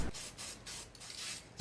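Aircraft gray spray paint hisses from a can onto an O scale model chimney for a feed store building, in several close, steady bursts separated by brief pauses.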